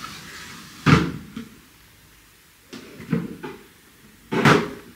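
A sliding drawer organizer in a bathroom cupboard, heard as three short bursts of sliding and knocking, each with a quick rattle, spaced across a quiet room.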